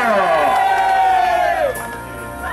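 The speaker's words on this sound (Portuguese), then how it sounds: "Palmas pro Preto!" A party crowd cheers, whoops and shouts loudly and steadily at a gathering in northern São Paulo, a dense wall of voices that eases slightly near the end.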